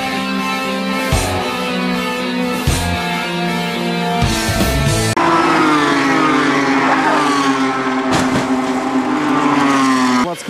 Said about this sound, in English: the Nissan spins